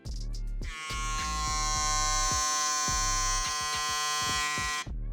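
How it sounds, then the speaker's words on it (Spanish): Suprent Pro Fangs hair trimmer running steadily with a high, even motor buzz, a close and constant whine after a brief start, with no talk. "Escuchen el trimmer."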